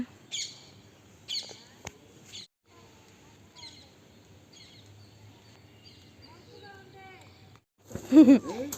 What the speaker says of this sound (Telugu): అది చూడండి ఎంత ప్రశాంతంగా ఉందో, పక్షులు అరుపులతో ఎంత బాగుందో కదా.